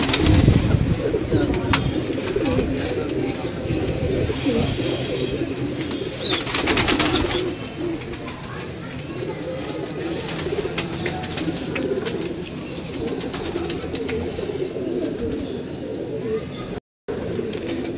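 Lakha pigeons in a fancier's loft coo in low, repeated throaty rolls close by, over a steady background hum with scattered wing flutters, and a voice talks over parts of it.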